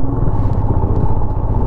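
A luggage-laden motorcycle rumbles loudly up close, its engine chugging low and steady as it makes a U-turn on a mountain slope.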